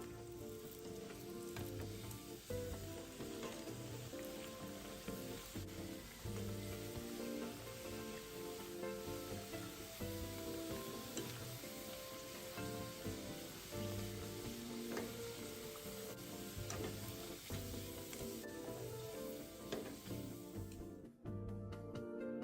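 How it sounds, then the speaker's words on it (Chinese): Rice cakes coated in cassava batter deep-fry in hot oil, giving a steady, dense sizzle and crackle of bubbling oil that carries on evenly throughout, with no voices. "油炸至表面金黃色後即可離火"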